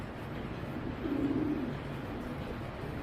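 Club racer pigeons give a soft, low coo that swells briefly in the middle, faint and close against a quiet background hum.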